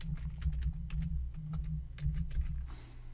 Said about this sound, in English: he's going to type in his password